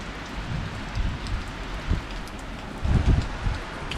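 Rain begins to fall in a strong August thunderstorm, a dense patter on surfaces with gusts of wind and occasional heavier bursts, close and steady.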